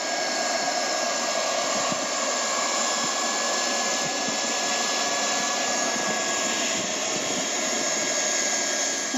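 A hot-air welder blows steadily during the pre-weld of a Soprema membrane seam, a loud, continuous roaring hiss with no break.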